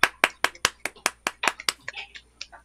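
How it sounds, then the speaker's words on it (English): Audience clapping at an evening gathering of Doric stories and ballads, heard as a short run of distinct, fairly close hand claps in a loose rhythm that thins out toward the end. "I want to give them a huge round of applause"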